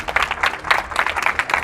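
A church congregation at a Sunday meeting claps for a brother, a steady burst of close, dense applause that runs the whole short stretch without talk.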